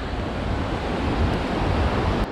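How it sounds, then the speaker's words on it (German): Broadband rushing water from the Stuibenfall, the highest waterfall in Tyrol, in the Ötztal, heard from a via ferrata path above it; a steady, dense roar with no voices. "Da unten ist der Wasserfall."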